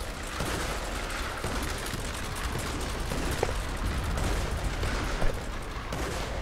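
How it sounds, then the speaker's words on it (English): Continuous rattling gunfire from units in the Roblox Conquest war game, dense overlapping shots at a moderate, somewhat distant level with one louder burst near the end. "my units are shooting them a lot"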